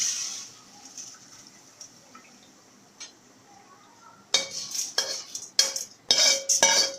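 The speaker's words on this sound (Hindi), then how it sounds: "आपको इसकी आवाज़ से भी अंदाज़ा हो रहा होगा कितनी क्रिस्पी दाल हमारी फ्राई हुई है" Crispy fried moong dal is tipped into a metal sieve after a near-silent stretch, giving loud bursts of dry rattling and clinking that come and go in quick clusters.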